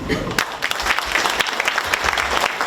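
An audience applauds panelists at a university discussion with Vietnam War veterans, a steady mass of clapping with a few sharper claps standing out.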